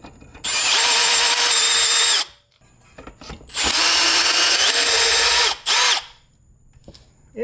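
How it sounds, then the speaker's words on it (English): A power drill bores into a broken bolt on a BMW E9X/E82, held without a vise, in two long loud bursts with brief grinding stops and a short final spurt, close and alone. "I don't even have a vise to really hold this properly. And I'm still drilling sideways."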